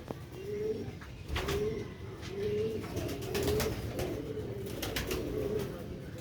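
Sialkoti pigeons on a rooftop coo softly in a regular series of about six low calls, close by over quiet background noise.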